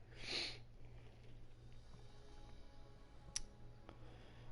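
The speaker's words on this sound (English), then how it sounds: "Sorry if I sniff a little bit." A single close nasal sniff from a sick person at the start, then quiet room tone with a faint click.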